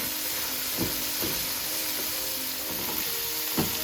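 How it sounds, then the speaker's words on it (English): Crumbled sausage meat, casing removed, browns in a pan with a steady close sizzle, broken by a few soft scrapes and stirring knocks. "And now we're going to sort of brown the meat."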